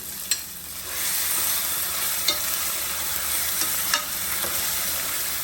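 Grated coconut fries and is stirred in a pan for coconut milk payasam, a steady close sizzle with a few sharp scrapes of the spoon against the pan.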